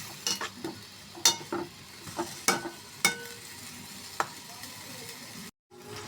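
Spices sauté in oil for a mrigal fish curry with potato, tomato and peas: a soft low sizzle under irregular sharp spatula knocks and scrapes, followed by a brief gap of silence near the end.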